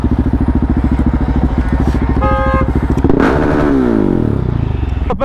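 Motorcycle engine running steadily while riding, a loud close rumble with a brief rising rev near the middle and a rough clattering texture, with no clear speech over it.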